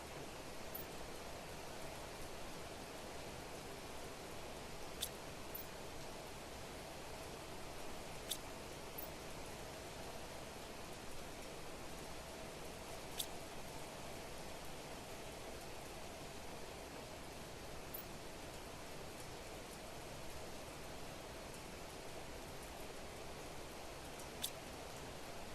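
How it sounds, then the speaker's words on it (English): Rain falling indoors in the video game The Planet Crafter, a constant soft hiss of steady downpour with a few faint sharp ticks scattered through it, no voices. "And it's raining inside."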